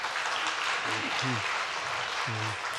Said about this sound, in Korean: 우리 한번 감사의 박수 부탁드립니다